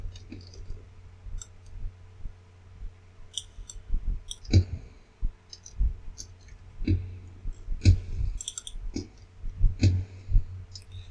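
Computer mouse clicks while masking during digital matte painting, sparse and irregular, some sharp and close, others softer, over a low steady hum with no talking.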